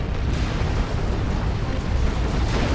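A Venerable Dreadnought's special attack in Dawn of War 2 sets off a loud, sustained explosive rumble, a dense roaring blast that fills the whole stretch at a steady high level.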